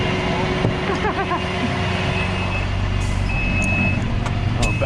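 A light-duty tow truck backs up at a dealership after a drunk driver's crash, its reversing alarm beeping in a steady rhythm over a rumbling diesel idle, with a few sharp higher beeps near the end.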